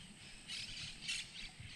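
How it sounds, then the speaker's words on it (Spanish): Faint, scattered bird chirps and squawks over a soft outdoor background hum at Laguna El Abuelo in Bragado, Argentina, with a few brief high calls standing out. "El ruido de los pájaros."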